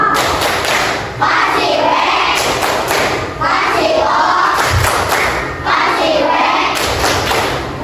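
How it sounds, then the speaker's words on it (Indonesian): A classroom of schoolchildren performs the 'tepuk wow' clap chant, rhythmic bursts of clapping mixed with loud group shouting, repeated in three waves. "Kita kasih tepuk dulu, tepuk apa anak-anak? Iya, tepuk, wow."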